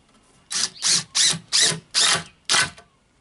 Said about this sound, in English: This is the 70mm screws, I'll just put in 1 each side.